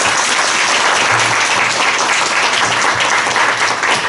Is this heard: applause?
yes